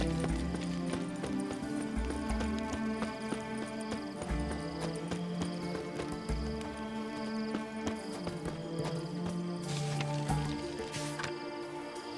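Horse hooves clop in a steady rhythm through a fantasy video game scene from The Witcher, mixed with dense background music and ambient game sound. No speech is heard.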